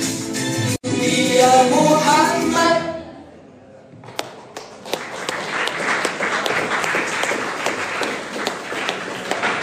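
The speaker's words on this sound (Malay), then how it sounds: "Beri tepukan gemuruh kepada kumpulan Al-Absyar." An audience claps for a performing group after a sung religious item, the music fading out before a burst of scattered, then steady applause rises and continues to the end.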